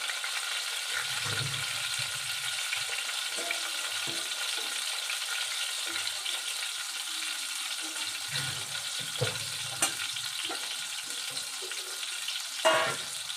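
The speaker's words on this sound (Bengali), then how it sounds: "বেগুনটাকে ভালো করে ভেজে তুলে নেব।" Eggplant fries in hot oil with a steady, close crackling sizzle, broken by occasional stirring scrapes.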